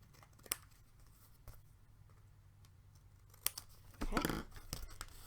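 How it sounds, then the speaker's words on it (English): Scissors snip through paper card while trimming an edge during card making, a few short crisp cuts spaced apart with a longer crunching cut near the end, close and fairly quiet with no talking. "And then trim it off."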